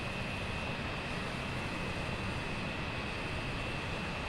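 Steady, dense engine roar of an Avro Vulcan delta-wing jet bomber in a flight simulator, continuous and even in level with no breaks and no talk.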